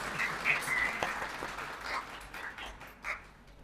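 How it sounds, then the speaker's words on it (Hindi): Audience at a Ramadan ration-drive gathering applauding a guest's arrival, a dense, steady wash of clapping at moderate level that swells and dips over several seconds with a faint voice mixed in. "एक बार भरपूर तालियों में, मेरे कहने से पहले आपने कर दिया।"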